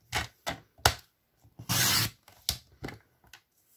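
Craft paper being cut with scissors or a blade in several short crisp snips, with one longer sliding cut in the middle, close and clear with no talk.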